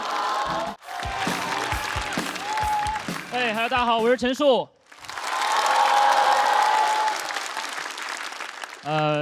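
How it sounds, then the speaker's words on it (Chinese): At a live stand-up comedy show, a comedian speaks into a microphone, then a large audience bursts into sustained, dense applause that fills the room loudly for several seconds. "好，掌声，谢谢大家。"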